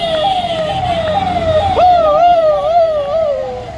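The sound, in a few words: boy imitating a vehicle horn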